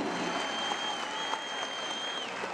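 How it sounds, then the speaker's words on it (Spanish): Audience at a high school inter-class event applauding students, a soft, continuous wash of clapping heard from some distance, with a faint steady whistle-like tone running through it. "Nuevamente aplausos para nuestros estudiantes."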